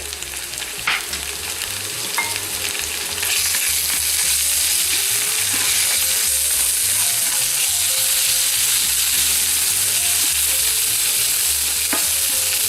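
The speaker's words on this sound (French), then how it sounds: "Je vais rajouter une bonne cuillère de gingembre et une bonne cuillère d'ail." Ginger and garlic fry in a pan for a masoor dhal tadka, giving a loud, close, continuous sizzle that swells after a few seconds, with occasional scrapes of stirring.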